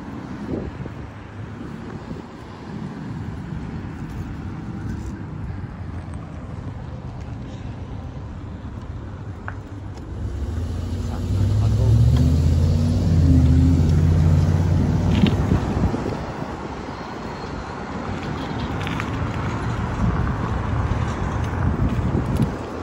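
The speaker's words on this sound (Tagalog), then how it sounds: "Medyo busy na yun yung kalsada, maraming sasakyan." Traffic on a busy road in Canada, heard from a bicycle while commuting: a broad rumble of passing cars swells louder midway, partly buried under heavy wind buffeting on the microphone.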